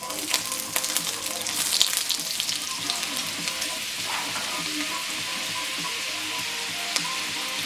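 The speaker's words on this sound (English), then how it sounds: "we're gonna stir in our butter and our garlic" Butter and garlic sizzling in hot oil in a pan, a steady close frying hiss with a few faint stirring clinks, and no talk over it.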